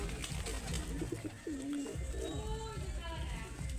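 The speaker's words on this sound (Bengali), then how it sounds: "তো এটা ব্রিডার কবুতর" Soft cooing from a Pakistani teddy breeder pigeon in a short sequence, close by, with rustling and background voices underneath.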